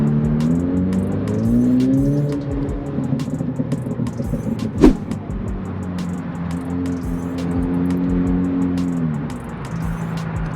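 A car with a burble tune crawls up ramps at low speed, its engine droning steadily, swelling and easing in revs throughout, with a sharp brief crack or pop near the middle, close and loud.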